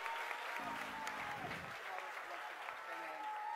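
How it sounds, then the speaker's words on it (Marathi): Congregation at a church blessing meeting clapping for Jesus, steady applause from a crowd through the whole stretch, with music and voices running underneath. "give a big mighty clap to Jesus एक जोरात येशूंसाठी टाळी वाजवा"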